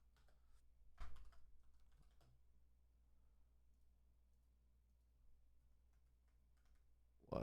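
Someone types on a computer keyboard in a quiet room, with scattered soft key taps and a few louder clusters of clicks, close and fairly faint, with no talk.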